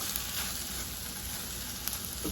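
Chicken frying in a pan mixed with tomatoes, onions and garlic, giving a steady close sizzle with a couple of faint stirring clicks, no talking.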